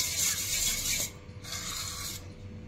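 Homemade set curd stirred in a bowl, giving a steady wet scraping and rubbing sound in two close, continuous strokes with a short pause between them.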